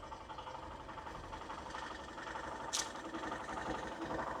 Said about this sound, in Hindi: आइडियल कंडीशन पर इंजन साउंड और एग्जॉस्ट नोट भी सुनो।